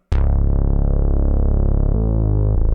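A loud, buzzy analog synth bass with no equalization holds a long, bright, harmonic-rich note, then steps down through a couple of lower notes near the end.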